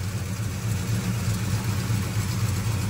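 A car engine idles steadily at close range during a radiator and engine flush, running warm, with a continuous low, even hum and no talking.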